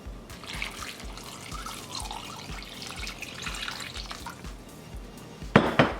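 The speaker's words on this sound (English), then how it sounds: "Now I'm going to cover them with water, salt the water, and boil them till they're soft." Water runs steadily from a tap into a pot of parsnips, a continuous splashing pour with a brief clatter near the end.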